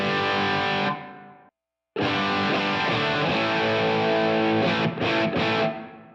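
Distorted country rock electric guitar run through a Helix Native dynamic room reverb, loud chords ringing with a brief cut to silence, then sustained strums and choppy stabs with a roomy tail.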